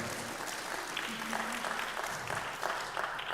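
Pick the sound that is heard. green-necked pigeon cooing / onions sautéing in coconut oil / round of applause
round of applause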